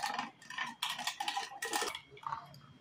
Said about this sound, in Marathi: अजून मी फेटून घेणार आहे याला छानपैकी